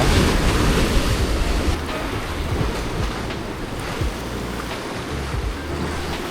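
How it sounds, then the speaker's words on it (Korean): Rough winter sea at a rockfish fishing spot: waves crash and surge continuously with gusting wind buffeting the microphone and light rain falling, loud and steady throughout with no voices. "비도 조금 오고 지금 바람도 조금 불고 파도도 많이 일고 있습니다"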